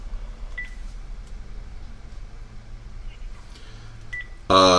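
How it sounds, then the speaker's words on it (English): Incoming phone call tones during a cooking stream, a few short electronic beeps scattered over quiet background, ending in a loud burst of bright ringing tone. "Hold on, we got a phone call."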